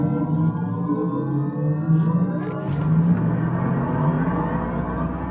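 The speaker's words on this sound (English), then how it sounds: "listen to that like this electric sound boost building up" A Mercedes EQE 53 AMG electric car at a launch control start, its synthetic electric drive sound building as a steady, rising hum and whir with a low rumble, fairly loud and continuous.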